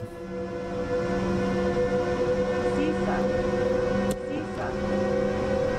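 A SIFA vigilance alarm tone sounds steadily in the cab of an ÖBB 1116 Taurus locomotive in Train Sim World on the Semmeringbahn, a sustained warning over continuous rail running noise.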